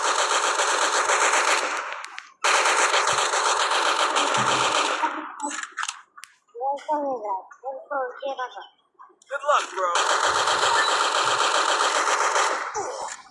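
Automatic gunfire from the Free Fire battle-royale game, long sustained bursts near and loud, broken by a short gap, then a stretch of quieter clicks and handling sounds before another heavy burst.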